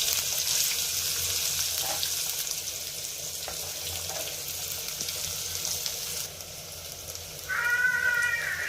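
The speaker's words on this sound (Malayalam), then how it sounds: "ഇനി നമുക്കിതിലേക്ക് 2 സവാള ചെറുതായി കട്ട് ചെയ്ത് ഇട്ട് കൊടുക്കാം" Finely chopped onions hit hot oil seasoned with cumin in a pan, giving a steady, moderate sizzle and crackle throughout with a few small clinks and stirring noises. No one talks over it.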